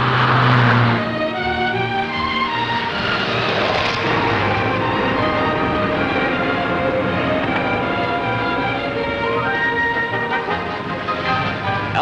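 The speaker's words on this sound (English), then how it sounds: "French town echoes to the throaty roar of the various engines." Rally cars of the Monte Carlo Rally roar through a French town, throaty engines revving loud and near, their sound echoing off buildings in a continuous blend of several motors.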